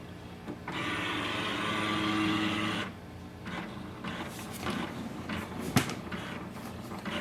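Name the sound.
HP OfficeJet Pro 8130e printer starting up after power on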